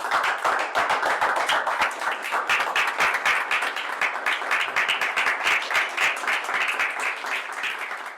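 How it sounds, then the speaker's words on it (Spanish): A church congregation applauds after a sermon reading, dense steady hand clapping sustained throughout, close and loud, with faint voices mixed in. "Vamos a brindarle un aplauso al Señor."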